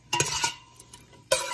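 Butter melting with parsley in a pan, soft sizzling bursts mixed with light clinks and stirring scrapes, brief and close with quiet gaps between.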